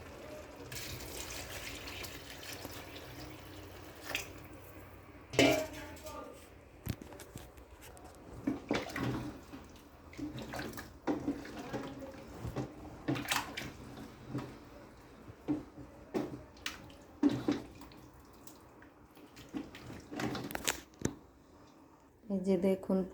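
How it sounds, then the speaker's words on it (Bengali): Water is poured into a pot of vegetable khichuri in uneven splashing bursts, with gaps and clatter between them and a voice talking over parts of it. "এবার পুরো খিচুড়িটা রান্না করার জন্য পরিমাণ মতো পানি দিয়ে দিব।"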